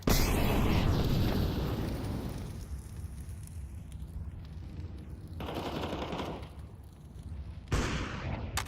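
Incendiary grenade in a video game bursting and burning, with a loud roaring whoosh at the start, a sustained crackling fire texture and renewed bursts of flame later, all without talk.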